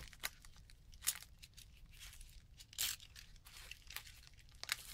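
Tape on a Microsoft Lumia 950 XL phone box is torn open by hand in a string of sharp, close ripping and crinkling bursts, with short pauses between pulls.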